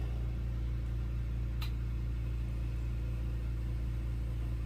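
An electric mandrel spinner turns a big-hole glass bead in a lampworking studio, giving a steady, close, even motor hum that holds without pause, with a brief faint click partway through.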